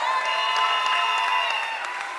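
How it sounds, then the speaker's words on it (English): Audience applause at a political party's final election rally, a dense wash of clapping that stays steady and fairly loud for a couple of seconds, with no voices standing out above it. "Deputy Political Leader, Jearlean John, give her a round of applause."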